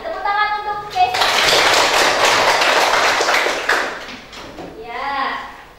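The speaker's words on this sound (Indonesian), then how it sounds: "Tepuk tangan untuk Cesa." A classroom applauds a student: a burst of clapping of about three seconds that fades out, with voices and speech before and after it.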